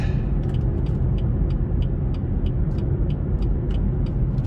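A 2018 BMW 440i Gran Coupe with a turbocharged 320 hp engine driven in sport mode, a steady loud low rumble of engine and road noise heard from inside the cabin, with faint periodic ticks above it.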